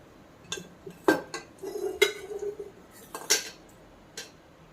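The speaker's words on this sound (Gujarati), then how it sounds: "હવે આપણે પહેલા ગેસ ચાલુ કરી દઈશું. પેન મૂકીશું." A metal pan is set down on a gas stove for making chilli garlic Maggi, with several scattered clanks and clinks close by and quiet between them.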